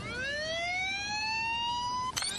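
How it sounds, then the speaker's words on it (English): An American police siren wails alone and loud, a single smooth tone sweeping steadily upward for about two seconds before cutting into a brief warbling burst at the end. "This is the sound of an American siren."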